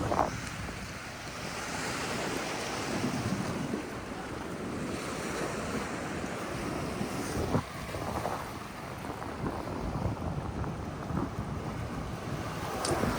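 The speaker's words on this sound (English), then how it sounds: "Here's the beach." Ocean surf rolls steadily onto a beach in Guam, a continuous broadband wash of breaking waves mixed with gusty wind buffeting the microphone, loud and close throughout with no talk.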